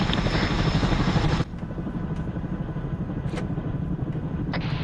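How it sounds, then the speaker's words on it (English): Helicopter in the video game Arma 3, a loud steady rotor thrum and engine drone that drops slightly in level partway through and continues without speech. "Dismount and hop on the helicopter, boys."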